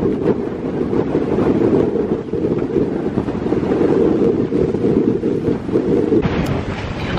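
Strong wind buffets a sailing boat riding at anchor off Milos, a continuous loud roar with microphone rumble and faint water sounds, no talk.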